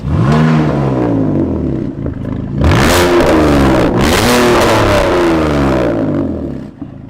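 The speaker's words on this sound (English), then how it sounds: "this is a concept car that sounds like that" A loud, close concept car engine revving hard with a deep growling roar, rising in pitch over a couple of throttle blips before settling.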